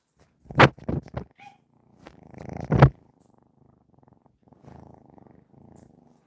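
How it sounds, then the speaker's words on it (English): A cat purrs close up, with a couple of louder rumbling bursts followed by softer, steady purring. "Such a big purr for such a little baby."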